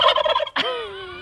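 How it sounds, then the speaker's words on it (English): Turkeys gobble loudly and close by, a rapid rattling burst followed by another gobble that trails off into a long wavering call, heard outdoors at a homestead greenhouse build with no talking. "Apparently the turkeys are excited that we're back out working today."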